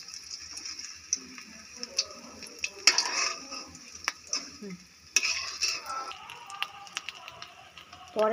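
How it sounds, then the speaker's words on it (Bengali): Boiled eggs lightly frying over medium heat in a pan for Indo-Chinese egg chilli: a soft sizzle with intermittent metallic taps and clinks of a spatula against the pan, fairly close. "এগুলো হালকা ফ্রাই হবে, একদম মিডিয়াম রেখেছি।"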